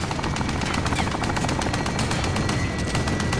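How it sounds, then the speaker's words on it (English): Rapid machine-gun bursts and gunfire rattle continuously in a Call of Duty Modern Warfare multiplayer match, with an enemy helicopter's thrum buried under the steady, loud barrage. "Is that an enemy chopper?"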